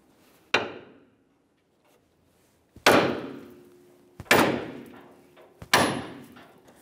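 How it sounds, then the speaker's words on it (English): Four sharp metallic hammer strikes drive a lower ball joint out of the front suspension of a 2002-2009 Chevrolet Trailblazer, each blow ringing briefly and spaced a second or more apart, close and loud with no talking. "So to remove it, you can either use a hammer or an air chisel or possibly both."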